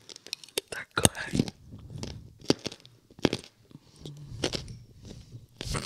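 Gummy carrot candies are chewed close to the mic in an ASMR mukbang, with soft squishy bites and wet chewing that come in irregular bursts alongside quiet whispered talk.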